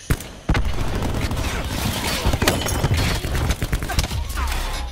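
Gunfire in Call of Duty: Black Ops 4 Hardpoint multiplayer: sharp shots and bursts break in suddenly and continue as dense, loud exchanges with booming impacts across the clip.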